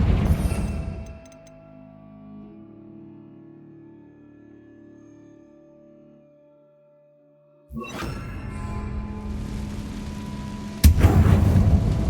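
Confringo spell blasts in a Harry Potter video game: a sharp burst, a fading rumbling tail, a quiet pause, then another loud blast with a sudden sharper crack near the end.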